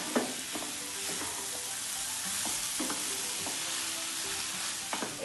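Grated carrots sizzle in a pan over a medium flame, a constant close frying hiss broken every second or so by soft scraping strokes of a stirring spoon.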